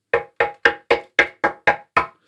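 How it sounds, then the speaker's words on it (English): Eight evenly spaced knocks on a wooden Jazzmaster guitar body during initial shaping, close and resonant, each with a short hollow ring, followed by a faint final tap. "I'm going to knock on the wood"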